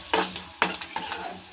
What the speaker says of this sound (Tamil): இந்த கடலைப்பருப்பு உளுந்தம்பருப்பு ஃப்ரை ஆகிற வரைக்கும் அடுத்து சிம்மிலே இருக்கணும்